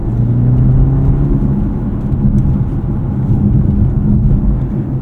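A 2024 BMW 530i xDrive sedan accelerates in sport mode, its engine a steady, loud low drone with a rising hum, heard from inside the cabin.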